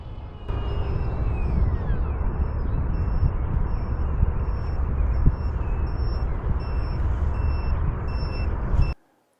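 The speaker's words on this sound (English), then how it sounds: "My alarm's going off." A high, thin electronic low-voltage alarm from an RC plane battery beeps at a steady pulse over a loud, rumbling broadband noise that cuts off abruptly at the end.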